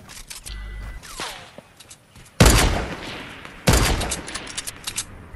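Gunfire from a Fortnite match: a few scattered shots, then two loud, sharp bursts of rapid fire with ringing tails, close and prominent, with no talk.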